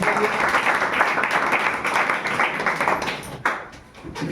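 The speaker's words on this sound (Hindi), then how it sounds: "ताली मारो भाई, क्या बात है।" Students applaud together in a coaching class, a burst of dense clapping close by that holds steady for about three seconds, then thins and fades.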